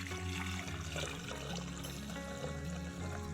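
Water pours steadily into a large snow globe being repaired, a continuous splashing rush with a low hum underneath.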